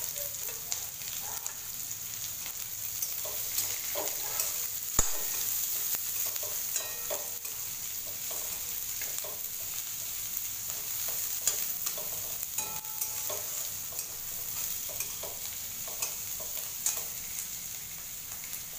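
Chopped onion frying and being stirred in a pan for a vegetable dish, a steady soft sizzle with scattered scraping and clinking of the spoon, close and moderately quiet with no talk.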